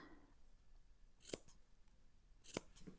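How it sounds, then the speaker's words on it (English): Scissors make two crisp, close snips into the fabric seam allowance of a round drawstring cosmetics bag, about a second apart, each with a short metallic slice, in a quiet room. "I'm going to go all the way around and just put little snips into it here and there,"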